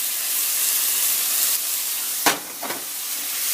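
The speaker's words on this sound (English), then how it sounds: "So the steam is what's kind of cooking them." A steady sizzling hiss from a hot pan, with a sharp burst of steam partway through followed by a softer second puff.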